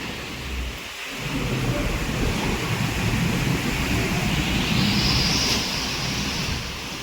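Heavy rain pours steadily with a deep, rolling rumble of thunder beneath it, loud and continuous throughout.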